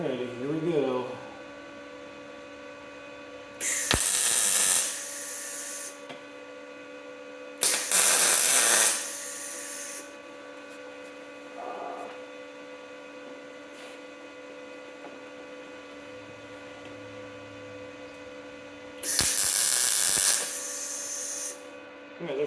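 Three short bursts of a welder laying tack welds in a home workshop, each about two seconds, loud and broadband over a steady electrical hum, separated by quiet gaps.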